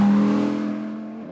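A naturally aspirated V10 race engine revs high and wails, its pitch holding then slowly fading as the car pulls away into the distance.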